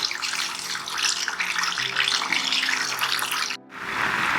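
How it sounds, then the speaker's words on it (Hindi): Chicken pieces frying in hot oil for a home-style fried chicken dish, a dense, steady hiss and crackle heard up close, with one brief break near the end before the sizzling resumes. "तो देखिए चिकन हमारी फ्राई हो रही है।"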